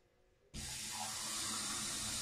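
A kitchen faucet with a touch sensor turns on and water runs steadily in a strong, hissing stream, starting after a brief quiet moment.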